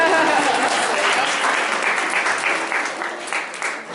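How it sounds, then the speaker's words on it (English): A luncheon audience breaks into a dense burst of clapping that fills the room, staying loud for several seconds before gradually thinning out. "how about another round of applause"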